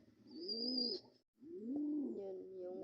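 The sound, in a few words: pigeons cooing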